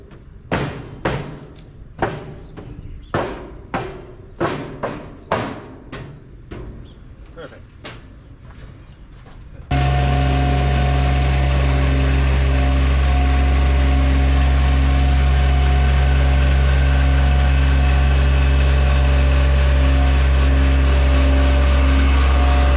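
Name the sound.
Bobcat MT100 mini skid steer driving up ramps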